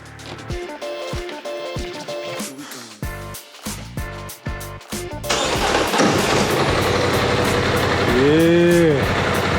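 A vehicle engine cranks over in several stuttering bursts, then catches and settles into a loud, steady running rumble, with a brief rising whine near the end.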